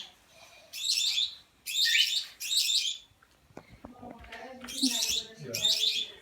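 A tiny pet bird chirps in bright, loud bursts, several separate runs of chirping with short pauses between, close by, with some faint handling noise in the middle.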